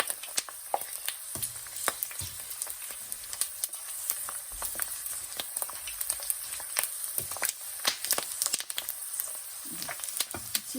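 Pork skin frying in hot oil for crispy pork rinds, a steady crackling sizzle with dense irregular pops and spits running throughout, fairly quiet and with no voices.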